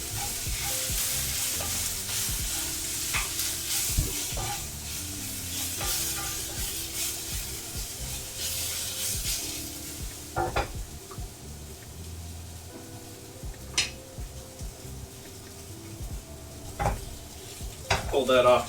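Food in a hot pan is stirred during pizza-night cooking, with a close sizzle punctuated by repeated scraping and clanking of a utensil against the pan, louder at first and then quieter, with sporadic sharper knocks.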